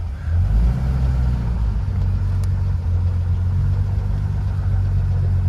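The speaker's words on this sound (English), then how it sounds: "One-handed steering on a 36 Nash." A 1936 Nash 400 DeLuxe's engine runs steadily on a ride, a low droning hum with a constant rumble that holds nearly unchanged throughout, near and fairly loud, with no talking.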